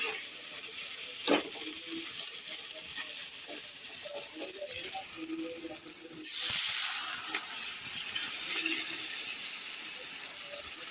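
Water is poured into a pan of fried spice paste with ground chili, with quiet frying and a few utensil knocks, then a sudden loud rush of hissing and bubbling as the water hits the hot pan and settles into a steady simmer.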